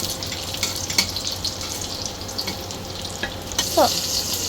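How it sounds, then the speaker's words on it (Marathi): Steady soft sizzle and scraping of raisins being dry-roasted in a pan, with occasional stirring clatter throughout. "हे मनुके पण थोडेसे मी असे भाजून घेते"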